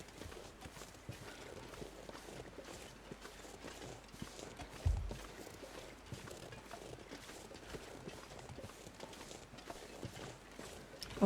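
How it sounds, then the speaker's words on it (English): Footsteps in the survival game The Long Dark on Interloper difficulty, a faint steady crunching tread repeating through a soft background hush, with no talk over it. "I'm pretty sure it's just our own footsteps"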